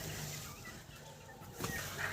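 Bantam chickens out foraging on an evening walk give a few soft, scattered clucks at moderate distance over a low outdoor background.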